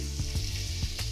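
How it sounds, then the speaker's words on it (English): A New York strip steak sizzles loudly and steadily in a hot pan, with a few short louder bursts of crackle rising above the constant hiss. "Perfect sizzle."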